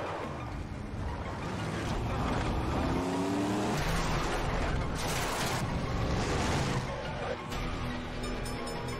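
Cars racing in an action-movie chase, engines roaring loud and close with passing whooshes and possible tire noise, dense and continuous with music or effects layered over it.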